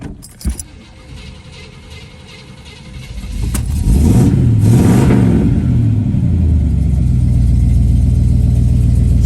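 A black 1971 Chevrolet Monte Carlo cranks over after some clicks and rustling, catches and fires up, then settles into a loud, steady idle with a couple of revs, close and alone.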